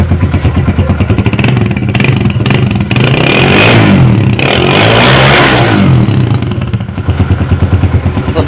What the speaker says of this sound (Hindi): तो सिलेंसर का साउंड भी माशाल्लाह बहुत प्यारा है।